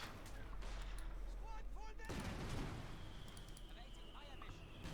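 Mortar fire and battlefield explosions from the strategy game Company of Heroes 2 boom and crackle through a busy combat mix, with a sharp burst midway, while a caster talks over it.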